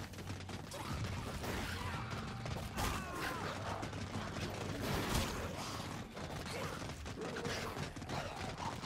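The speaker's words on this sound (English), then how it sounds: "I just put a coin into that machine" A coin-operated machine in the Space Land zombies mode of Infinite Warfare runs with steady mechanical whirring, ratcheting clicks and creaks, layered over dense game effects and a low hum throughout.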